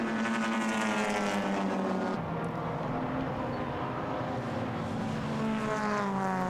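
Racing cars on a circuit, a quick green number 46 MGB dueling with a Zagato in a historic Moss Trophy race, engines roaring loudly and continuously, pitch shifting as they pass close by.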